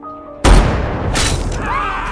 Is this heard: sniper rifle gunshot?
yes